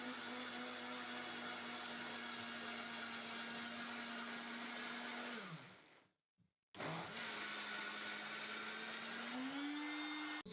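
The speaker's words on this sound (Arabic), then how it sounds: "وهضربهم في الخلاط" A blender runs in a steady loud whir as chocolate cake batter with sugar and vanilla is mixed, cutting out briefly, then restarting and rising in pitch.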